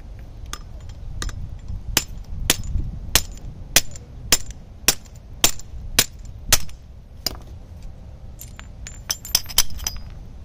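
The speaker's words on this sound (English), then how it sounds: "Hit it with the hammer." A steady series of sharp metallic hammer strikes on a punch removing a wheel lock from a 2020 Chevrolet Equinox, evenly spaced at first, then a quicker cluster of lighter taps at the end.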